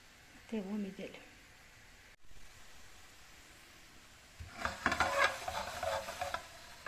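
Kadayıf sizzles in a hot frying pan with quiet crackling, growing louder near the end as it is stirred, with brief speech early on.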